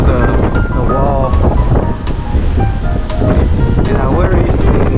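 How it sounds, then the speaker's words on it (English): Waves crash over a sea wall in 50-mile-an-hour typhoon winds, a constant loud roar of surf with heavy wind buffeting the microphone and a person talking over the noise. "You can just see the waves down there just blowing over the wall."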